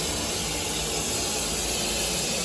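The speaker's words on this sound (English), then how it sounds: "This is just a regular steam cleaning." Carpet steam cleaner giving off a steady, dense hiss throughout, close and continuous with no pauses.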